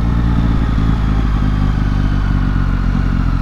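2022 Yamaha MT-09 motorcycle engine pulling in second gear, a loud steady mid-pitched drone with a throbbing rumble, heard close and constant with no talk.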